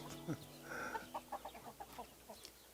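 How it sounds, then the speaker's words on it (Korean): Native Korean hens on a small farm cluck in a quick rhythmic series of short, close calls after a brief squawk, with a faint rooster-like call in the background and no talk. "원장이 알을 구해 직접 부화시킨 토종닭들도 알을 낳기 시작했습니다"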